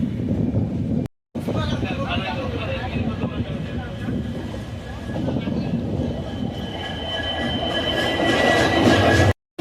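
A train rolls slowly into New Jalpaiguri station, its carriages rumbling and clattering close by with squeals from the wheels, heard for several seconds under a voice.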